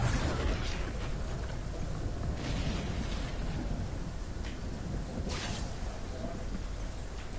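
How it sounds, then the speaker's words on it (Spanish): A thunderstorm in the video game Fortnite brings constant heavy rain hiss with low rumbling thunder and a few brief swells of louder crackle. "Ay, se me dio tormenta."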